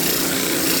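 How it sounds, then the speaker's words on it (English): Power sander working a roughly sawn piece of wood, a steady loud broadband whir held evenly throughout with no talk. "so I gotta sand this junk"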